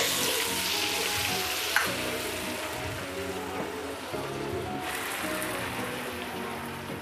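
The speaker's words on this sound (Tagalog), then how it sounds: "Lagay na natin yung ating lemon juice." Lemon juice poured into a hot pan of fried whole garlic cloves, giving a steady broadband sizzle and crackle that holds throughout, with faint background hum beneath.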